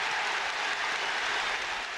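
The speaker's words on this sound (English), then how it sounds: "Big roar from the crowd." Crowd at a hurling match roars in a steady, dense wash of cheering and noise, loud and sustained throughout with no pauses.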